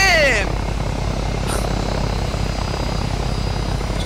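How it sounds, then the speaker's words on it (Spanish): A helicopter in the ArmA 3 video game runs with a loud, steady rotor and engine drone, heard continuously and close, with a brief whistle at the start. "Vamos a ese helicóptero, el avión ese."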